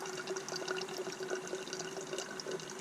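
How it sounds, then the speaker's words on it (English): Mountain stream water trickling and splashing into a container as it is filtered, a soft continuous pour with light bubbling, close by and without voices. "Just filter in some water."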